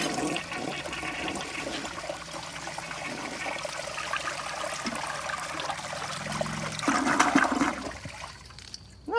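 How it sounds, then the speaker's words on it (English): A 1959 Nationaline Envoy toilet with a 1.6-gallon tank flushes nearby, a steady rush of water giving way to a gurgling swirl and trickling refill, with no talking. "I'll give you a demonstration flush."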